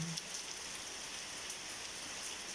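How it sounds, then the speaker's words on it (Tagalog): Steady, dense rain hiss fills the whole stretch in Menorca, Spain, a constant wash of falling water with faint scattered drops and no voices. "lumakas yung ulan"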